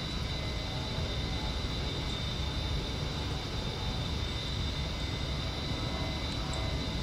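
An A-10C Warthog jet just after takeoff in the DCS flight simulator game produces a steady, loud engine drone with a constant whine that does not change for the whole stretch.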